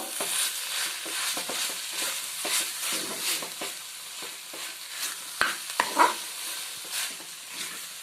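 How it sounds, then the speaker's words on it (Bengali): Chicken mince stirred together with coriander leaves in a hot frying pan, soft continuous sizzling under repeated scraping strokes of a spatula, with a few sharper knocks near the middle and no voices. "ধনে পাতাটা দিয়ে দেওয়ার পর আমি কিমাটা এখানে মিশিয়ে নেব"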